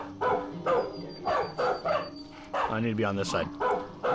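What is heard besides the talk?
dog barking in the video game Far Cry 5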